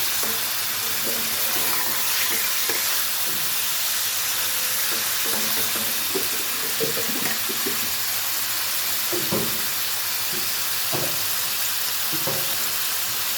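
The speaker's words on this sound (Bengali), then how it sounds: "হলুদটা খুব বেশি ভাজবো না ভাজলে শক্ত হয়ে যাবে হালকা ভেজে নিচ্ছি" Turmeric is fried lightly in a pan, giving a loud, constant hiss of sizzling oil with scattered soft clinks and stirring knocks throughout.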